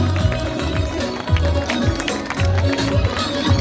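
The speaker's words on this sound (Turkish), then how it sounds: "Alkışlıyoruz Aras kolektifi." A crowd at an Azerbaijani community event claps for the Araz collective, loud and close, with rhythmic low thumps running underneath the steady clapping.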